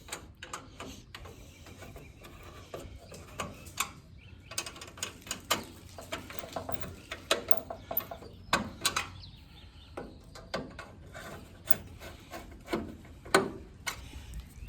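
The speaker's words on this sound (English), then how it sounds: "Let's go ahead and tighten these up again." Small ratcheting and rattling clicks come from tightening the bolts of a no-cut halo headlight adapter on a 1965 to 1970 Ford Mustang, irregular close-up mechanical bursts with brief pauses in between.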